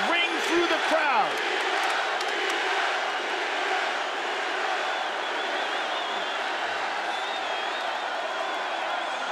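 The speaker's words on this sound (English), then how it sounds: "the chants of Diaz ring through the crowd" A large MMA arena crowd roars and chants a fighter's name, a dense sustained wall of voices with rhythmic rising shouts near the start, heard from within the venue.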